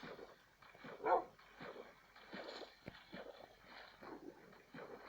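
A dog whimpers and gives a few soft yips and barks, faint and intermittent, with one louder cry near the start.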